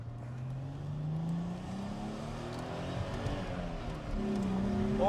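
Chrysler Crossfire, built on Mercedes SLK underpinnings, accelerating hard in second gear: a steady, loud engine drone climbing in pitch throughout, heard from inside the car, with no talking.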